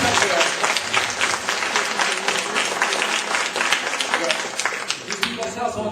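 An audience at an astrology conference in Bordeaux applauds for the organisers, a steady wash of clapping lasting the full six seconds at fairly close range.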